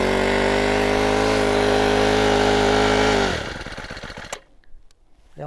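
A PCW3000 portable winch's petrol engine roars loudly at a steady high pitch, like a chainsaw, then cuts out abruptly and leaves a rough, sputtering idle that fades into near silence.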